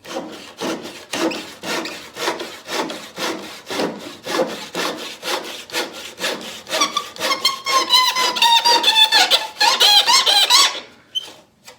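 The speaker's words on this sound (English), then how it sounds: "we'll be doing the flush cut to cut off this piece and to cut off this piece" A flush cut saw trims protruding pieces on a wooden demilune table, making steady rhythmic back-and-forth rasping strokes, close and loud, that speed up and squeak toward the end before stopping.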